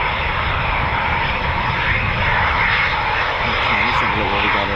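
A Eurofighter Typhoon FGR4 jet flies a practice display at an RAF station, giving a loud, continuous engine roar that fills the whole stretch without letting up.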